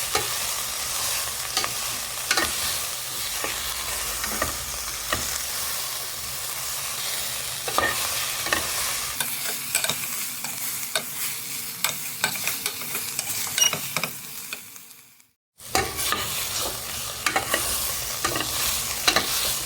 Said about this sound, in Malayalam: നമുക്കൊന്ന് വഴറ്റിയെടുക്കാം